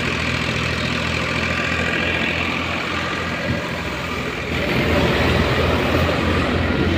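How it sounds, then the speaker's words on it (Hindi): A Farmtrac 65 EPI tractor powering a thresher machine runs at low revs, a steady mid-low engine rumble with a continuous chugging drone that swells slightly near the end. "ये देखिए ट्रैक्टर दिखाते हैं आपको, फार्म ट्रैक EPI"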